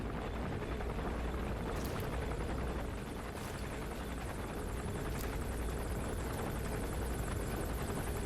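Gunship helicopters circling in the video game Metal Gear Solid V, a continuous rotor hum that stays steady and moderately loud throughout with no voices.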